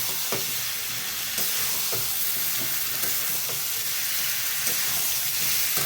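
Eggplant stir-fried in a hot pan for a prawn, eggplant and potato curry: a constant loud sizzle and hiss broken by regular knocks of a spatula scraping and turning the pieces.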